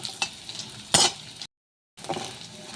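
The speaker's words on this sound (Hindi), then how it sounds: "इसे हम चलाते हुए फ्राई कर लेंगे" Gond (edible gum) frying in hot ghee in a kadhai while being stirred, giving close sizzling with scraping stir strokes and a brief silent gap midway.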